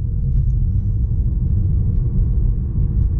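A BMW i8 accelerating at full power in electric mode, heard from inside the cabin as a steady, loud low rumble of road and drivetrain noise with no engine note rising above it, and no talking.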